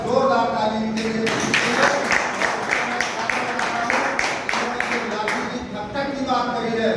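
A crowd claps loudly and continuously at a Hindi-language national association gathering, dense steady applause running throughout with occasional stronger bursts.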